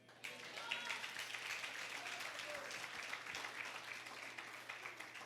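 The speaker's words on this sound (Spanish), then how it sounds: "¿Puedes darle un aplauso a Jesucristo?" A church congregation claps for Jesus Christ during a Spanish-language teaching on the Book of Revelation, a steady round of applause that holds for several seconds at moderate volume after a brief quiet start.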